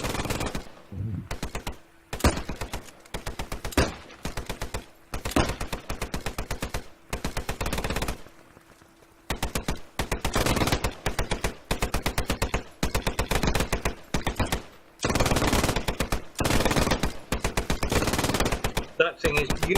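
Rapid rifle fire rattles off in dense volleys at pop-up targets, sharp cracks packed close together in long bursts broken by short pauses, loud and close throughout.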